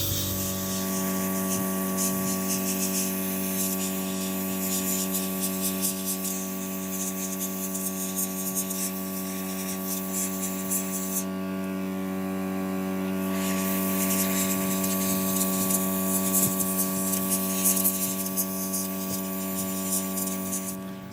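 A spray gun sprays melted cocoa butter, a steady broadband hiss over a constant mechanical hum that briefly thins out midway and then resumes for the rest of the stretch.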